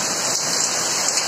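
Heavy rain pouring down during a hailstorm in Kolkata, a loud, dense and unbroken roar of water striking surfaces, close by, with no voices.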